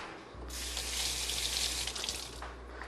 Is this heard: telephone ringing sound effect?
no